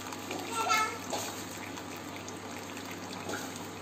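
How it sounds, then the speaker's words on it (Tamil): Cooking water being drained off boiled dal in a home kitchen, a short liquid pour and trickle that peaks early and then tapers into faint dribbling, with a voice faintly in the background. "ஃபர்ஸ்ட் நான் இதுல இருக்க தண்ணியெல்லாம் வடிகட்டி எடுத்துடுறேன்."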